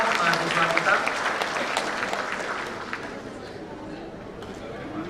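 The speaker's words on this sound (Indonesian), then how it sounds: "Sekali lagi tepuk tangan untuk adik-adik kita, mahasiswa kita." Applause from an audience during a university rector's speech at Trisakti University, loud at first and gradually fading, mixed with crowd murmur and some speech.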